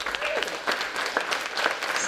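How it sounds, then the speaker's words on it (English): Audience applause at a First Friday arts event, a short burst of dense clapping from a room full of people, fairly close and steady throughout. "One more time, round of applause for Mosaic America."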